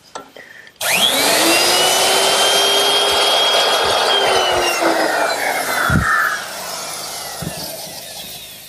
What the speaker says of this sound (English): I'm using this straight edge clamp to guide my router so that I can remove some material right in this layout area here